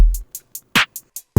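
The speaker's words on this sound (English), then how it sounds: "the first thing I did was find a drum loop, and without any effects, it sounds like this" A bare drum loop with no effects, dry and close, with a few sharp hits in a steady pattern: short bright hat ticks around a punchier kick and snare.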